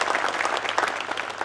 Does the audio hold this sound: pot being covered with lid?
no